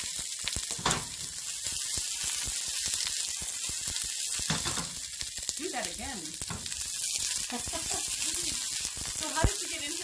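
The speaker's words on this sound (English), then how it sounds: "I take my onions and carrots and get them started in a little bit of oil." Onions and carrots sizzle and crackle in a little oil in a pan, a dense steady frying hiss with occasional stirring knocks, while people talk quietly over it.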